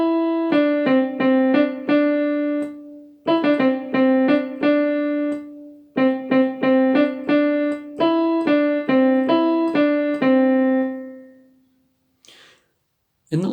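On an electronic keyboard, a melody plays as clear, bright single notes in a bouncy repeating pattern, several phrases separated by short pauses, ending with a held note that fades to silence.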